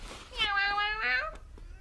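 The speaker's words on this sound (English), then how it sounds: "a cat finds that the best way of getting its owner's attention is to make a noise" A domestic cat meowing for its owner's attention, two drawn-out, close, clear meows in quick succession with a soft breath or rustle between and after.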